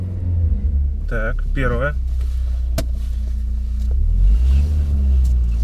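A VAZ 2018 with a manual gearbox pulls away as a low, steady exhaust and engine rumble, close and constant, while someone speaks briefly over it.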